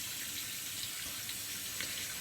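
A tap runs cold water to rinse a razor, a steady close splashing hiss with no talk.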